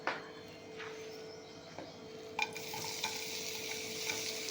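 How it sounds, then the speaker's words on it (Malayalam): Sliced onions are sautéed in a pan for a creamy chicken stew, a quiet frying hiss under a steady hum, with a few soft spatula scrapes and taps. "ഇനി നമുക്ക് ഇത് ഒരു സവോള എല്ലാം ഒന്ന് വഴറ്റി റെഡിയാക്കിയെടുക്കാം."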